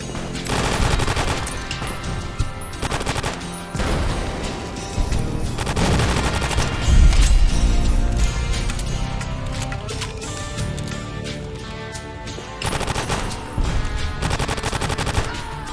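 Bursts of automatic gunfire from the video game Fallout, with rapid rattling volleys and short pauses between them, loud and continuous throughout.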